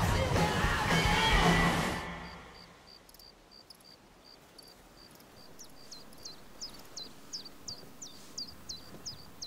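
Birds on a migratory flyway outdoors give a run of short, regular chirping calls that grow steadily more frequent and distinct, following a brief burst of loud noise at the start.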